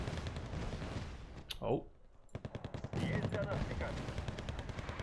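Dense gunfire and a thudding artillery barrage in the Wargame: AirLand Battle campaign, continuous rattling bursts at moderate level, with a voice speaking briefly over the battle.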